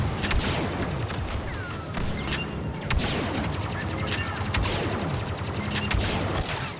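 Rapid bursts of blaster gunfire crackle through a Star Wars Battlefront 2 match, dense repeated shots layered with explosions and game effects, continuous throughout.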